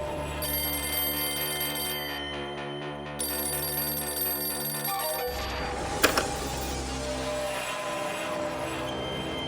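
A telephone bell rings repeatedly in steady bursts, loud and close, with a brief pause partway through before the ringing resumes amid some clatter.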